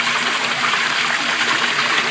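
Water rushes steadily through pond pump lines being flushed on a Cetus sieve, giving a loud, close, continuous gushing hiss with no pauses and no talk.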